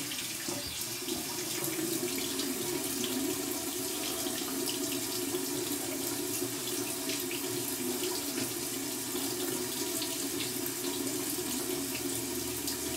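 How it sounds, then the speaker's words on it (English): Cold tap water runs steadily into a sink, a continuous hissing splash that stays even and close for the whole stretch, with no voices. "I'm going to run under some cold water here"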